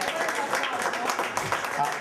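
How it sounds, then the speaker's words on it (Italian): An audience claps at the prize-giving of a Sicilian traditional sweets festival. The dense, steady applause fills the room while a voice speaks over it. "applauso."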